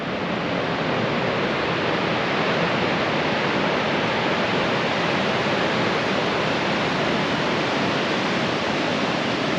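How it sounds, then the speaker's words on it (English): Surf at Norman Beach on Wilsons Promontory, a steady broadband wash of breaking waves that stays constant and fairly loud with no distinct breaks, alone without talk. "This is Norman Beach."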